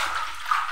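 Leafy greens for terere and sagaa being swished and rinsed in water, a brief steady splashing wash heard up close.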